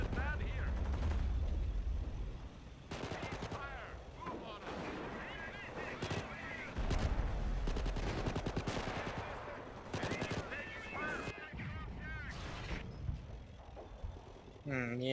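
Machine gun and artillery fire in the Company of Heroes Blitzkrieg mod, with dense bursts of rapid shots, heavy booming impacts and clanking mechanisms layered over one another.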